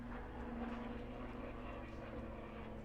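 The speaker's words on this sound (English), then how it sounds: "There's a plane going on." An airplane flies overhead. Its engine drones low and steady with a humming tone that runs through the whole clip and stays even in loudness.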